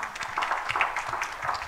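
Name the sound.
congregation applause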